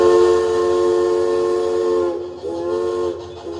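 A big whistle tone played on a Marimba Lumina, a loud steady stack of bright harmonics resembling a steam train whistle, holding for about two seconds, then breaking into two shorter blasts.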